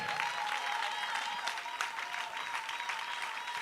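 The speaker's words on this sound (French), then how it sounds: "Acclame bien fort le Seigneur." A church congregation applauds and cheers in praise of God, a dense, steady wash of clapping with scattered voices calling out, loud and sustained throughout with no pauses.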